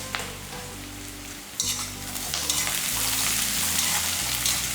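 Onions sautéing in a pan for an eggplant and mushroom dish, with salt and a pinch of turmeric added. A steady, close sizzle is broken by stirring scrapes, and the frying grows a little louder partway through.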